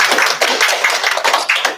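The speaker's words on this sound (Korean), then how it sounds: "큰 박수로 환영해 주시겠습니다." Close, fairly loud welcoming clapping from attendees at a joint meeting of a labor-relations advisory group and a future-of-work forum, with distinct individual claps in a quick, uneven rhythm.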